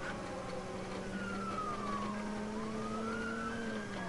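A police siren wails in the video game Watch Dogs, with a moderately faint rising and falling tone over a steady low vehicle rumble.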